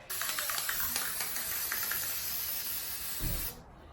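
Continuous broadband hiss of a spray paint can spraying for about three seconds, used for a Dollar Tree Halloween craft, with brief clicks near the start; the hiss cuts off sharply at the end.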